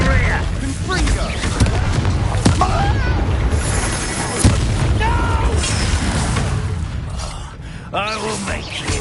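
A Confringo blasting spell going off in the Hogwarts Legacy video game, with loud booming explosions and sharp bursts amid busy combat effects, while a player talks over the action.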